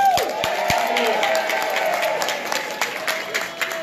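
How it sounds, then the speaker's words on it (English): Crowd applause at an alderman's re-election rally in Chicago's 8th Ward, steady close clapping with a few cheers rising through it, lasting the whole stretch. "Round of applause for Michelle Harris"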